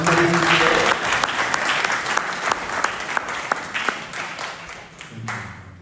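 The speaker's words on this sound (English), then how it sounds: "Please give a round of applause to the" An audience breaks into loud applause that starts strong and slowly thins into scattered claps, with a few voices talking beneath it near the end.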